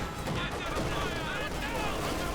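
MG42 machine gun fire in Company of Heroes 2 battle, rapid bursts crackling under a continuous voice talking over the game action.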